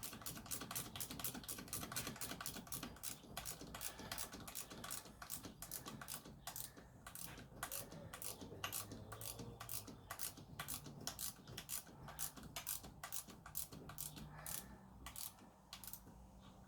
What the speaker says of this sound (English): so I'm only using a 1/4 inch ratchet